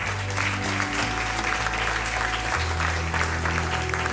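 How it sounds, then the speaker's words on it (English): An audience at a European leadership awards ceremony claps steadily, a dense sustained applause over a low musical hum, evenly loud throughout. "Could you all give a big round of applause to Marcus Beyer?"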